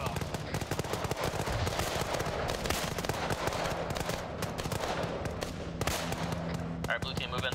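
Continuous heavy gunfire during a military video game assault, rapid overlapping automatic bursts forming a dense, unbroken barrage with occasional voices buried underneath.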